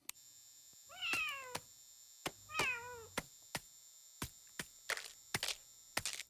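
A cartoon cat meows twice, clear and close, with a sharp knock-like tap beforehand and a string of further taps and brief noises after, no talking.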